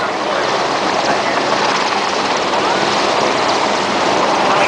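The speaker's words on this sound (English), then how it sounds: "It's a fast helicopter, making it smooth and comfortable to work in, and very quiet for such a large beast" A constant loud rotor and engine roar from a large, fast helicopter at an RAF Benson families day fills the whole stretch with broad, even noise, steady and close, like sitting inside the cabin.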